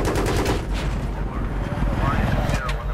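Gunfire in the Battlefield 3 video game, rapid, dense bursts of shots rattling continuously and loud for a few seconds, with voices talking over the action.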